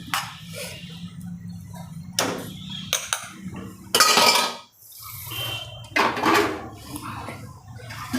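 Mixer grinder bowl rinsed out with water in a home kitchen while cooking dhaba-style drumstick curry: clattering steel and splashing water come in several bursts with pauses between, close and moderately loud, with no talking.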